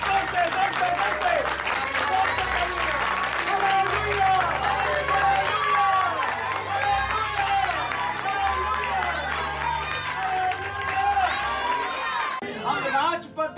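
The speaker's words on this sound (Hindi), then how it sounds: "जोर से ताली बजाओ।" Loud, sustained applause and cheering from a seminar audience at a lay leaders training in Delhi, dense clapping filling the room for about twelve seconds with chatter mixed in, then cutting off near the end.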